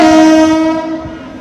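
A train horn blares loudly with two sustained tones, fading slightly as the train rumbles past close by, near Durgam Cheruvu lake in Hyderabad.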